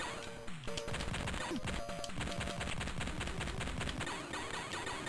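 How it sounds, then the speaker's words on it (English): Rapid gunfire, explosions and ricochet effects from the 1993 Contra game on a Tandy Color Computer 3, forming a dense stream of sharp synthetic shots and crashes with brief tonal blips, loud and continuous. "I'm hearing a ricochet sound when I hit it."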